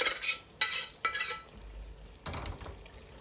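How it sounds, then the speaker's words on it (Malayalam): A metal spoon scrapes and clinks in a pan while cooked beef is stirred into masala, with a few sharp strokes and then a softer sizzle and shuffle. "ഇതെല്ലാം കൂടെ ഒന്ന് മിക്സ് ചെയ്ത് കൊടുക്കാം"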